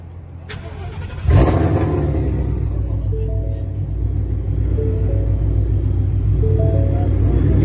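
A widebody Dodge Charger 392 V8 starts with a sharp crank burst and settles into a loud, heavy, rumbling idle, with a few light throttle blips riding over the steady low drone.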